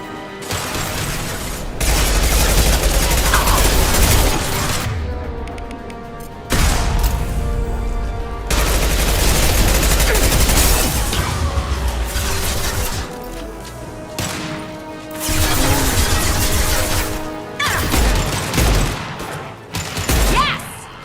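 Sustained bursts of combat gunfire in Mass Effect 2, loud and dense in long rattling volleys separated by brief lulls, with mechanical clatter and booming impacts layered throughout.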